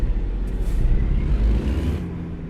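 A video-game truck with a loud engine and air brake: a steady low engine rumble with a sharp hiss of released air near the start, loud and close, no talking.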